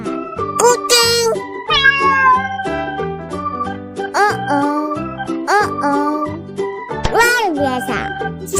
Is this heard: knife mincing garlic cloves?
no